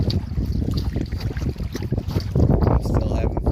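Strong wind buffeting the microphone while kayaking on a Michigan lake, a loud continuous low rumble with gusts, and water lapping against the hull underneath.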